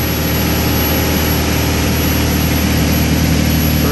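A stock, unmodified Cummins 4BT four-cylinder diesel roars under full load on a dynamometer test pull, a loud, constant, throbbing drone with a steady low rumble and no voices over it.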